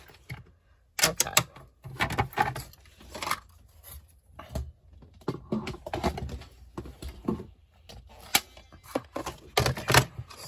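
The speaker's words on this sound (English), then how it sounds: "I'm just gonna trim that off." Paper cut from a handmade gusseted envelope folded from a single 12 x 12 sheet: close, irregular snipping clicks and rustles come in quick bursts with short pauses between.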